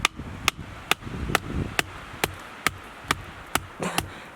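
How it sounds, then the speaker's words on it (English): Roasting stick being hammered into the ground at a remote off-road campsite: ten sharp, evenly spaced blows about every half second, close and loud, with faint outdoor ambience between strikes. "we'll hammer it now"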